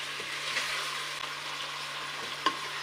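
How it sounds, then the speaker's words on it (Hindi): Potatoes and eggplant fry steadily in a pan, a continuous close sizzle and crackle with a couple of brief sharper pops, no voices. "आठ मिनट तक हम इसमें अपनी सब्ज़ी को करेंगे फ्राई।"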